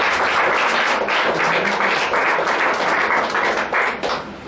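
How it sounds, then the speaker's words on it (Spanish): Continuous, dense applause from a church congregation fills the space loud and close, a broad wash of many hands clapping that holds steady before thinning slightly at the end. "Aplauso al Cristo de gloria."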